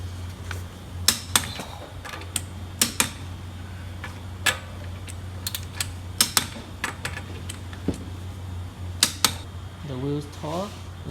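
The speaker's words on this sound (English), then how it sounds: "Let's torque the wheel." Torque wrench tightening the lug nuts on an Acura ILX front wheel, giving a series of sharp ratcheting clicks in irregular bursts over a low background hum, with a voice heard briefly near the end.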